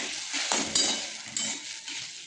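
Chicken coated in soy and tomato sauce is stirred in a pan, with soft wet sizzling broken by several spoon scrapes and knocks against the metal, close and fairly quiet, no voices.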